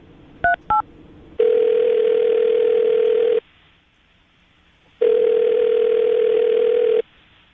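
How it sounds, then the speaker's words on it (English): A phone call goes out with two short dialing beeps, then a loud steady ringback tone sounds twice, each lasting about two seconds with a pause of silence between. "I'm going to call her right now"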